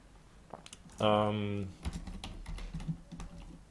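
Rapid keystrokes tapped out on a computer keyboard while entering a website URL, a short dense burst of clicks in the middle with someone talking before and after.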